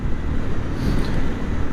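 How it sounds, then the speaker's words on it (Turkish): Heavy wind buffeting a microphone while riding a motorcycle at about 50 km/h, a loud continuous low roar with gusty swells; no speech. "Bu arada acayip rüzgar var ha."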